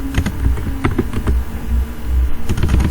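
Someone typing on a computer keyboard close by, with quick, uneven bursts of key clicks and taps that run steadily throughout; no talk.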